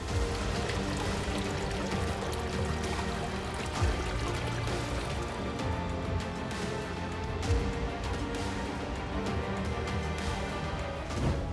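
A mountain stream flowing down from Kedarkantha peak in the Himalayas: a loud, continuous rushing and pouring of water that stays steady throughout, with no voices.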